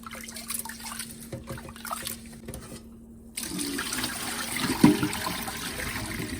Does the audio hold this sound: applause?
no